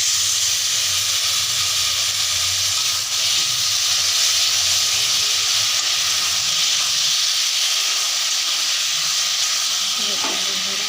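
Food sautés in a hot pan with a steady, loud hiss and sizzle throughout, continuous and close, with faint stirring scrapes.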